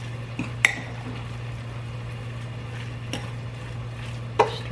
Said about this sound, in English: Stir this around again